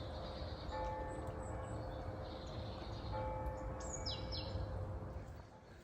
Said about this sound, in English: I hope you can hear those bells.